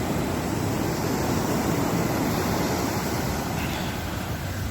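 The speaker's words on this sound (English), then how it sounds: "I think the waves are crashing like crazy" Ocean waves crash on the shore as a continuous roaring surf wash, loud and steady, with no voices over it.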